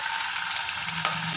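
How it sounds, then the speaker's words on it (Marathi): Paneer tikka sizzles steadily in a hot pan while grilling, a dense, even frying hiss with no voices. "पनीर आपण व्यवस्थित ग्रिल करून घेणार आहोत."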